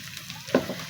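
Ginger and green chili paste hits hot oil with a brief, sharp sizzling burst midway through a short, quiet stretch of faint crackling, close by.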